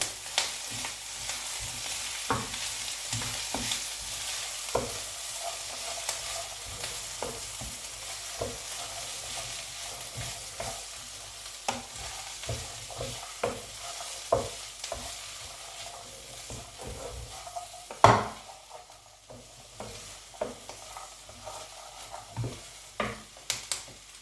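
Potato pieces cut into small chunks are stirred in a frying pan, a steady sizzle broken by repeated sharp scrapes and clinks of the utensil against the pan, alone with no talk.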